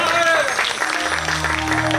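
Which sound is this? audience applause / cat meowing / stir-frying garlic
audience applause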